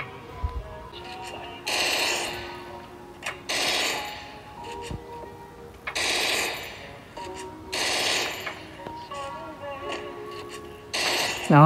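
Gunfire rings out in bursts of rapid shots during shooting practice in a video game, with a pause between volleys and someone talking over and between them.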